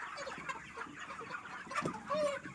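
A flock of farm chickens, around 400 birds kept for meat, clucks continuously at close range, with overlapping calls and a louder drawn-out squawk near the end.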